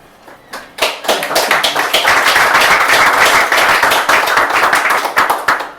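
An audience at a poetry reading and open-mic evening claps after a poem, with a few scattered claps swelling into steady, close, fairly loud applause that holds for about five seconds before starting to thin.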